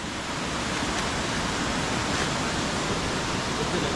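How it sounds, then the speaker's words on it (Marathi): A river flows over rocks at a bathing spot, a dense, steady rush of water filling the scene at close range, constant and unbroken, with no voices. "इकडून सगळी अशी नदी वाहत येते"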